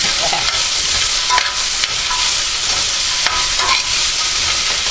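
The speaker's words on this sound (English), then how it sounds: "I'm throwing some of these pea pods, which are really beautiful. Let me throw all of them." Pea pods tossed into a hot sizzling pan for almond chicken chow mein, a loud steady frying hiss with scattered stirring clicks and scrapes, close and without talk.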